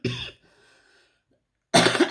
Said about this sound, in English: I've got a bit of a choky, like a tickly cough